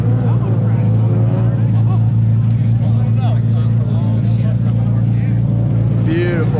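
Nissan R32 engine running loud and close, a heavy continuous low drone with rough throbbing, while people talk over it.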